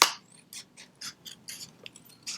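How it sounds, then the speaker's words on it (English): Scissors cut out a paper circle in a series of quiet, crisp snips, about ten short cuts in an uneven rhythm, close up with no talking. "And then you are going to cut out the circle."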